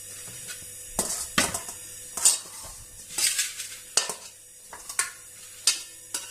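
A metal spoon scrapes and taps against a pot in short, irregular strokes while scooping out pumpkin pulp, close and fairly quiet, with no talking.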